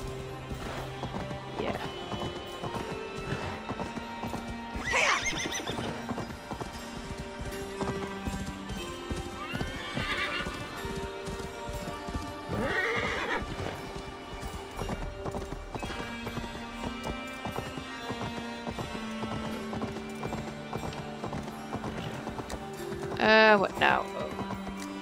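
Galloping horse in Assassin's Creed Valhalla, steady clip-clop of hooves running throughout over game music, with a sharp, loud neigh near the end; someone talks intermittently.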